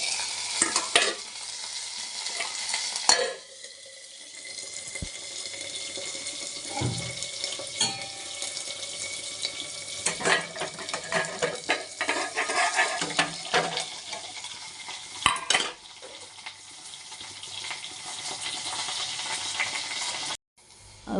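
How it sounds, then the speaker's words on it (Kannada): Mustard seeds dropped into hot oil for tempering a village-style thin sambar crackle and sizzle in a steady close hiss, with scattered sharp pops and clicks over about twenty seconds and no talking. "ಈಗ ಎಣ್ಣೆ ಕಾದಿದೆ, ನಾನು ಸಾಸಿವೆ ಹಾಕ್ತಾಯಿದ್ದೀನಿ."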